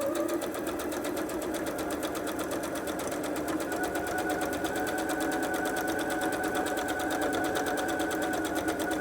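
A sewing machine runs steadily while stitching quilt fabric, a continuous fast needle whir with a buzzing mechanical rhythm that stays close and even throughout.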